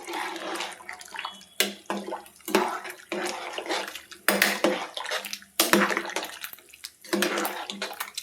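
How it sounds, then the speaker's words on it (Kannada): Wheat-flour fenugreek kadubu dumplings, North Karnataka style, are stirred around in a pot of water. The result is repeated sloshing and swishing with metallic spoon clinks against the vessel, fairly close and loud. "ಇವಾಗ ಇದನ್ನು ತಿರುಗಿಸ್ಬೇಕು ನೀರಲ್ಲಿ, ಒಂದಕ್ಕೊಂದು ಅಂಟ್ಕೊಂಡಿರ್ಬಾರ್ದು."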